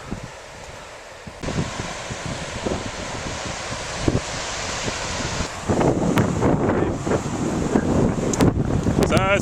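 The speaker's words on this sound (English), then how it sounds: "So it's pretty windy" Strong wind on an Australian beach churned up by a distant cyclone buffets the microphone as a steady broadband roar, with louder gusts rising about halfway through and possible faint voices underneath.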